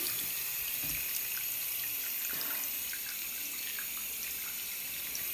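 Water pours onto dry ice, producing a steady hissing, splashing rush like a running tap, continuous and fairly close with faint crackles scattered through it and no voices.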